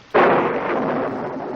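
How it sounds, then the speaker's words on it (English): A lightning strike in a holiday monster movie lands as a sudden loud thunderclap with a sharp onset, then rumbles on in a broad, sustained roar. "I love that lightning strike right after that line."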